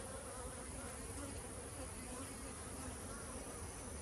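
Honey bees at an outdoor apiary make a dense, continuous buzz that stays even and fairly faint from start to finish, with no voices over it.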